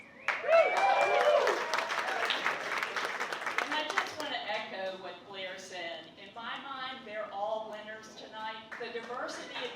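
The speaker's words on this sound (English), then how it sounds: "So let's give another round of applause to all of our" An audience applauds at the 2024 Vic Chesnutt Songwriter of the Year Awards. A steady wash of clapping fills the first few seconds under a voice, then gives way to a person speaking at a microphone.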